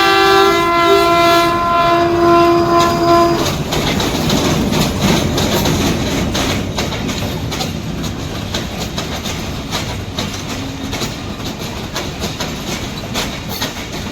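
A passenger train from Karachi, pulled by locomotive PH-208314, arrives at Malakwal Junction with a loud, sustained multi-tone horn blast. Then comes the steady rolling rumble and clickety-clack of its cars passing close by.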